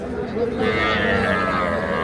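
A young crossbred bull calf lows in a drawn-out, harmonic moo lasting about two seconds, fairly close, with faint background chatter from people nearby at a cattle market.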